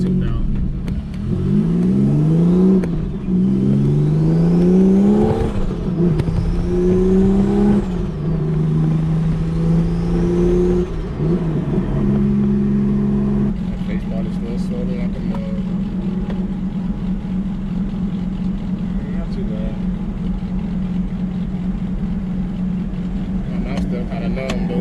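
Turbocharged Nissan Altima accelerating on the road, engine note rising through several gears with a turbo whine on top, then settling into a steady cruise drone, loud and close from inside the car.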